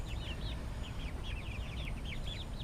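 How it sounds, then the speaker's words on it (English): Hens and a rooster in a backyard chicken run give repeated chirps and soft calls over a steady low rumble of outdoor background noise. "here's all our little chickens."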